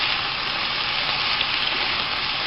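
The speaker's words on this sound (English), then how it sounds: "Sizzling hot" A steady, dense hiss of buffalo mac and cheese sauce sizzling in a hot pan, loud and continuous throughout with no talking.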